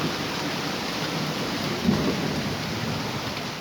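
A heavy rainstorm on a farm ranch, with dense steady rain roaring on surfaces and a low rumble of thunder swelling midway, loud and continuous with no voices.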